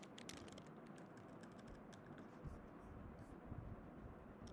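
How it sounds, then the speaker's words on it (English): Quiet, rapid clicking of a computer keyboard being typed on, steady and continuous over a soft background hiss, with no voice. "again I'm going to write use"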